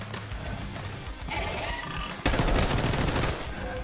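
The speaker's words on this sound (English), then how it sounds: "Shotgun." Gunfire erupts in Call of Duty Black Ops 6 Zombies, closing with a loud, close shotgun blast and its ringing tail, layered over game ambience with brief faint talk nearby.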